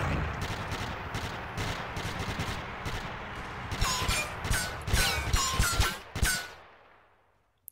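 Dense gunfire from a video game set on Long Island, with rapid bursts and single shots that build to a louder, crackling volley before cutting off into near silence.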